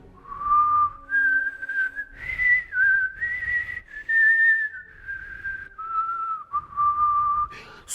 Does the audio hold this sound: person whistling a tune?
yes